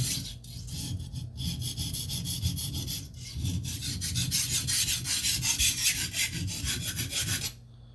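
Steel blade stroked across a Norton India combination oilstone, a steady continuous oily rasping scrape with repeated back-and-forth strokes, fairly close, then stopping abruptly near the end.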